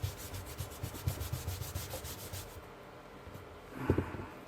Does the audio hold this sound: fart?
no